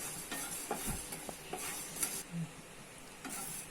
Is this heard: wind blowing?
no